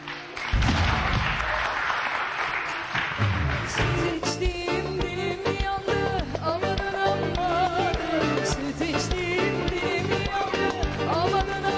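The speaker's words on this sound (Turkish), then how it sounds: "Alkışlarla uğurluyoruz." Loud, sustained applause from a large television studio audience, with lively music and instruments coming in under it.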